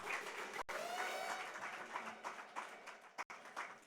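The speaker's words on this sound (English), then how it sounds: "Ladies and gentlemen, please, a round of applause" Applause from an audience at a corporate app launch event in Nigeria, a dense patter of clapping running steadily for a few seconds with two brief dips, some faint vocal sounds mixed in.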